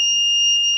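An electronic buzzer on a face mask detection project sounds one continuous, loud, steady tone throughout, with nothing else audible.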